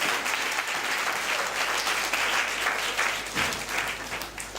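A church congregation claps at a service in a sustained burst of applause that fills the room at an even, loud level.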